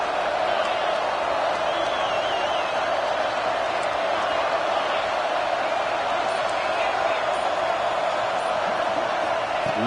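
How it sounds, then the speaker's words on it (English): Football stadium crowd roaring on a third-down play, a dense, steady wall of cheering that stays loud and continuous throughout, with occasional whistles and shouts rising above the mass of voices. "3rd down and the crowd really getting into it."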